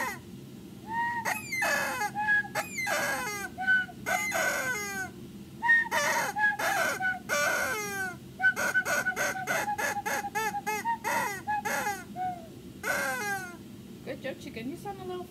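A chicken squawks and crows in a long series of sharp, rising-and-falling calls, sometimes in quick rhythmic runs and sometimes spaced apart, over a faint steady background hum.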